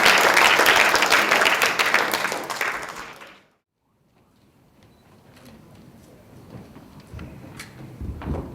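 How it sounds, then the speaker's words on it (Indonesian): A conference audience at an HR summit applauds as a CEO comes on stage. The full, close clapping lasts about three seconds, drops to near silence, then leaves a low room murmur. "Kita berikan tepuk tangan yang mulia untuk beliau"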